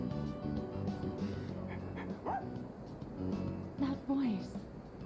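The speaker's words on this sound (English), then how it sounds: "I'll hang out with the dog." A dog in the video game Persona 3 Reload gives short yips and soft whimpering barks over game music and ongoing speech, at moderate volume.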